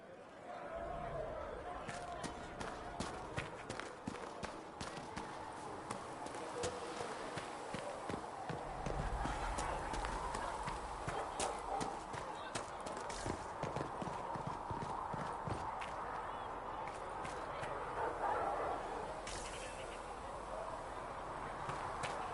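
Horse hooves clip-clop steadily throughout this Dragon Age: Inquisition gameplay, with mounts walking in a continuous rhythm while characters talk over them.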